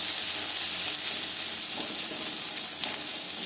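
Pumpkin pieces fry in a pan with a constant close sizzle and hiss, occasional soft stirring scrapes breaking through the steady crackle.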